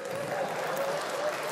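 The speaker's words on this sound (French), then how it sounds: "Et on applaudit notre Seigneur à tous." Brief burst of audience applause at a Belgian cinema quiz show, a steady wash of clapping with a faint tonal hum running beneath it.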